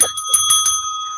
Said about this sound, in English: I got my bell here.